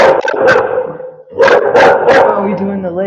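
A dog barks loudly and close by in a home during an ab workout, giving a few sharp barks, a short pause, then another cluster of barks.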